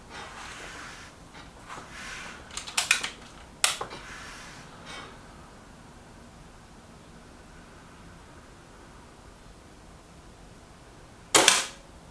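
A Reximex Zone air rifle fires pellets at a paper target, giving a few sharp, close cracks early on, a quieter stretch, then one more crisp shot near the end; no one speaks.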